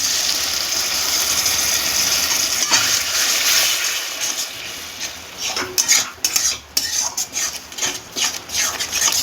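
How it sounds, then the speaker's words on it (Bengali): Tomato paste stirred into onions frying in oil in a pan for a spicy Bengali chicken dum, a steady scraping stir with soft sizzle, then sharper rhythmic spoon-against-pan scrapes toward the end, close and without talk. "এবার আমি টমেটো বাটাটা দিয়ে দিলাম।"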